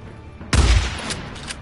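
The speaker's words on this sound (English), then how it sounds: "Oh, you're gonna get the shotgun" A single heavy shotgun blast in Days Gone, sharp and booming, followed by a short rumbling tail and faint echoes.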